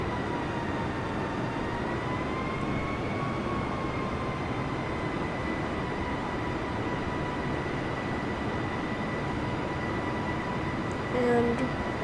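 A steady jet engine drone from an A320 in a flight simulator game holds at a constant level, with faint tonal whines slowly shifting pitch as power increases, continuous and unbroken for the whole stretch.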